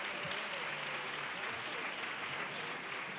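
A theatre audience at a carnival choir competition semifinal in Isla Cristina applauds in a dense, continuous wash of clapping that stays even throughout, heard from a distance.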